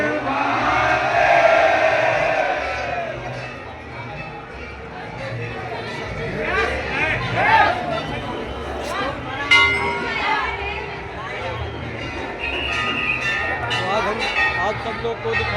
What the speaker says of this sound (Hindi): बहुत भीड़ है, बहुत अपरंपार भीड़ है।